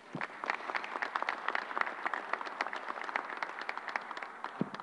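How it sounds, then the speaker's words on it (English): A crowd at a vaccination centre gives a round of applause for reverends, brisk scattered clapping that holds steady throughout, fairly close. "Let's give them a round of applause."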